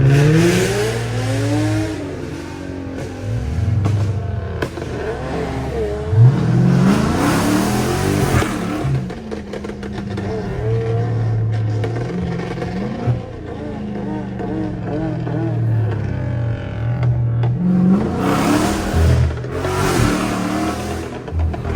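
Straight-piped Dodge Charger Scat Pack revving loud on a downtown street, its engine rising and falling in repeated pulls over roughly twenty seconds, with someone talking over parts of it.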